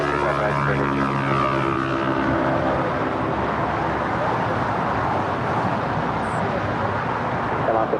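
A jet airliner taking off from runway 25 right at LAX, roaring steadily at a middle distance with a broad rumble and shifting tonal whine, continuous throughout with faint traffic beneath.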